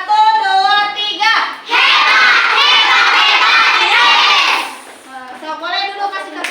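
A class of children shouts a group cheer in an Islamic studies lesson: a loud, unison chant that bursts out and holds for about three seconds, framed by shorter bits of children's voices.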